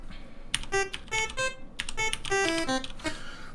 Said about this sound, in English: this is how you can play those NES sounds.